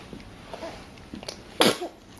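A single sharp sneeze bursts out near the end of a quiet stretch with soft breathy sounds.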